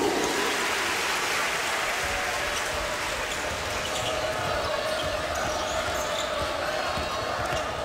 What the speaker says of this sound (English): Okafor gets a final ovation from the crowd here at Cameron Indoor Stadium.